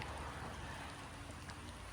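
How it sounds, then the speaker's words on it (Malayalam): Steady rain falling outdoors, a continuous dense hiss of drops on surfaces with no break, moderately loud and heard alone without voices. "മഴ"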